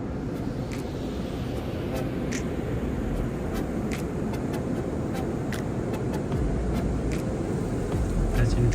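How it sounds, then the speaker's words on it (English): An automatic car wash runs over a Tesla Model Y set in car wash mode, a continuous low rumbling wash with steady water and machinery noise heard from inside the car, scattered brief clicks and a voice talking. "Now just go ahead, sit back, and enjoy the car wash procedure."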